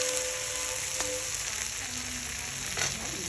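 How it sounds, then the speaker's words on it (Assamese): Dried chillies and panch phoron crackle in hot oil for a dry fry, a steady close sizzle with a couple of sharp clicks from the pan and no voices. "ভাজি দিছোঁ শুকান জলকীয়া তেলত দি, পাঁচফোৰণ তেলত দি"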